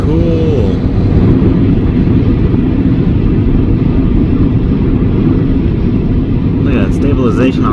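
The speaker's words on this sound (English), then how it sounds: "That looks like a military plane." A military plane passes overhead, its engine roar a loud, steady broadband drone that fills the whole stretch, with people talking over it.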